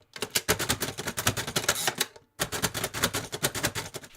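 A braille writer, a manual machine for embossing braille shorthand, types in a fast run of loud, crisp key strikes and clacks that break off for a short pause and then pick up again.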